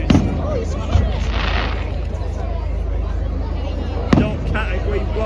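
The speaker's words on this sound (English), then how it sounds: "I doubt anyone can buy those fireworks." Fireworks bursting over Poole Quay in 2025, likely powerful professional-grade shells, with a couple of sharp booming reports over a continuous crowd murmur and people talking nearby.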